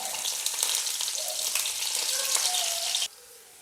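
Onions and curry leaves sizzle in hot oil for a carrot and egg curry, a loud, steady, close crackle with no talk that stops abruptly near the end.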